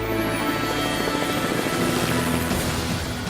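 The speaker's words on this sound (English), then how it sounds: "On board the chopper are pilot Daryl Sherwin, crewman Ernie Bryan" A helicopter's loud, continuous rotor thrum and engine roar, heard close from on board and steady throughout without pause, flying across Auckland Harbour.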